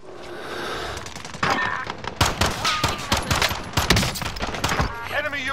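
Rapid bursts of video game gunfire crackle loudly and densely, with shots layered over one another, while faint voices and radio-style callouts sit underneath.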